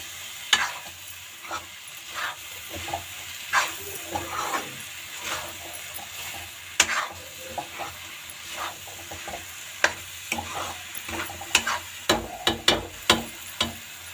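White chickpeas and potatoes are stirred in a pan on the stove, a spoon scraping and knocking against the metal in an irregular rhythm over a steady low sizzle, close and fairly loud, with no talking.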